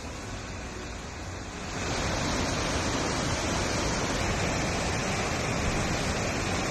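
Floodwater from a burst glacier lake rushes through the town of Zermatt in the Swiss Alps, a dense roar that swells after about two seconds and then holds loud and steady, with no voices.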